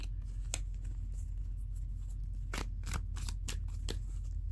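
Tarot cards being shuffled by hand with some fumbling: a steady papery riffling under a low background hum, broken by several sharp slaps and flicks as cards jump loose, the loudest clustered in the second half.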